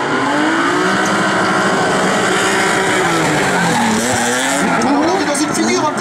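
Two rally cars drift side by side on the Nürburgring track, engines revving and wailing in rising and falling sweeps while tires squeal loudly and continuously, with commentary faintly underneath.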